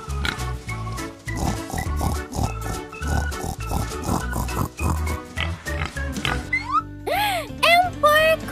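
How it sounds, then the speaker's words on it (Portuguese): Several pigs in a park give grunting oinks in short bursts, mixed in with lively voices and bright background music. "Eita, quantos porcos tem aqui?"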